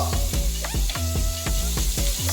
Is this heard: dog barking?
no